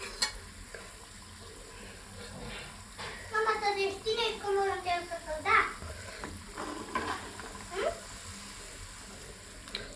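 Cauliflower pieces for dry gobi manchurian fry in hot oil with a steady sizzle, while someone talks over it in the kitchen and utensils clink and stir in bursts.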